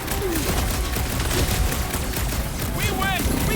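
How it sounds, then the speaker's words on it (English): Fireworks pop and crackle in a dense, steady barrage during a Guardians of the Galaxy video game scene, loud and continuous, with whistling streaks near the end. "Fireworks!"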